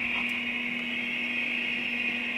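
A baby sound machine plays static white noise, a flat, constant hiss with a faint steady hum beneath it, unchanging from start to end.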